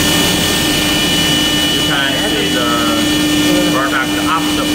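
Factory machine noise during the machining of aluminum RC wheels at DC Manufacturing, a loud steady mechanical whine and drone, with brief chirping tones and faint talk in the background.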